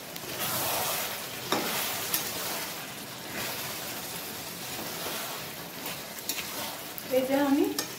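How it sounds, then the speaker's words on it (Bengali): Chicken sautés in a pan with mint and tomato paste, a close, continuous sizzle with scraping stirs and occasional clinks, and a brief tonal clatter near the end; no one speaks. "এটা আমি 5 মিনিট কষে নেব পুদিনাটা টমেটোটা দিয়ে।"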